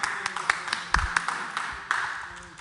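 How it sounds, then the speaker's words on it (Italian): A lone man claps for himself in a town council meeting: a handful of sharp, scattered hand claps at uneven intervals, mixed with speech and room murmur. "ma mi faccio un applauso da solo."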